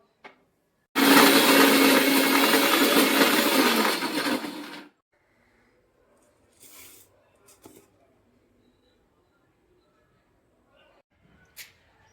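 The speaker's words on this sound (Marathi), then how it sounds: "मसाले वगैरे सगळे आपल्याला वाटून घ्यायचे त्याच्यामध्ये आपण कोथिंबीर पण टाकली आहे मिक्सरला आपण लावून वाटून घेऊया" A kitchen mixer grinder whirs loudly for about four seconds while grinding spices with fresh coriander, then stops, followed by a few faint clinks and taps.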